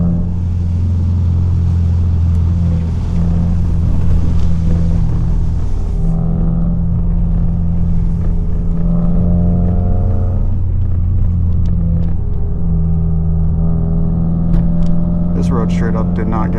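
A 2023 Subaru WRX creeps along an unshoveled, snow-covered road, its engine a steady low rumble with droning tonal hum and road noise throughout, shifting pitch slightly around the middle.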